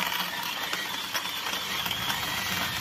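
A cordless electric coffee grinder grinding coffee beans for an off-grid brew with a Bialetti Mukka, a steady whirring, rattling grind that is moderately faint, continuous and even, with no talking over it.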